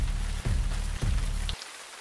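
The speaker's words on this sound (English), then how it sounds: "The rain continues to fall," Steady rain falls in a soft, even patter throughout, with low rhythmic thumps underneath that cut out near the end, leaving only the faint hiss of the rain.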